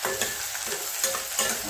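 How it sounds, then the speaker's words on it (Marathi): Onion frying in hot oil, a dense close sizzle broken by a few scraping stirs of a spoon in the pan, no talk. "त्यात कांदा टाकू. कांदा थोडासा गरम करायचा, जरा लाल होईपर्यंत"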